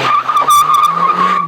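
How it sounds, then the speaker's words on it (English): A 2003 Mazdaspeed Protegé brakes hard on big tyres, giving a loud, sustained tyre squeal and skid that holds steady for about a second and a half, with a brief rougher scrub partway through. "The stops are short and straight and the ABS stays out until needed."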